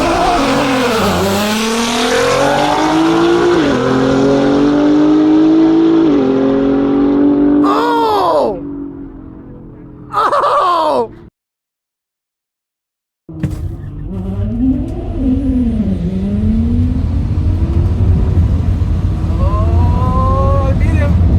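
A 900 WHP Nissan GTR drag racing a Tesla: loud engine revs rising and falling, a sharp launch, turbo whine and rapid upshifts close by, then a brief silence before distant engine noise resumes.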